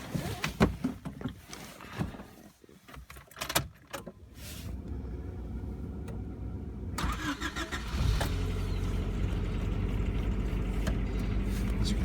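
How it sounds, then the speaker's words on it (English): A 1993 Honda Civic CX hatchback cold-started: a few clicks and rustles, a brief whirring crank, then the engine catches and settles into a steady, firm idle, close by with no voices. "That was a cold start, and you could hear the authority with which she started."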